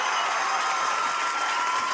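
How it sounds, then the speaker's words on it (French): Applause for a dance group at a dance audition and team showcase, dense steady clapping throughout, close and loud, with no talk over it. "on peut les applaudir très très fort"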